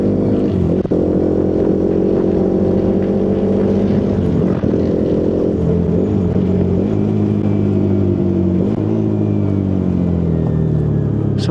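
Hero Xpulse 210 motorcycle engine working through downshifts while riding: loud, close single-cylinder drone whose pitch drops and rises with each gear change, blips audible across the stretch, no speech.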